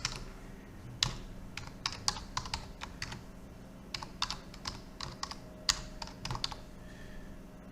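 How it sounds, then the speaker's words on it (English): Someone types an email address on a computer keyboard in quick, irregular bursts of light key clicks. A few keystrokes land sharper than the rest, all quiet and close in a still room. "type in an email address"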